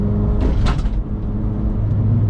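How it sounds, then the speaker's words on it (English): A car engine drones loud and steady inside the cab, its low rumble filling the space with the subwoofer and trunk contents removed, a brief swell near the start then a constant hum with no talk. "Now you can really hear the car. It's a lot louder now."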